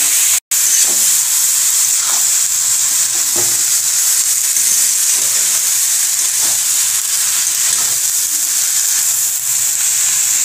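Soaked rice is stirred through fried spices in a hot pan for pulao, making a loud, continuous sizzle with faint scraping strokes of the spoon close by and no talking.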